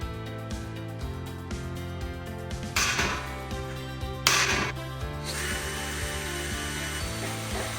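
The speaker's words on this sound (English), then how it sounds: "To get started, I'm just going to use a smaller drill just to create a guide hole." A small drill bit bores a guide hole, likely through the metal wall of a homebrew kettle, giving a steady whirring grind with a few brief louder bursts partway through.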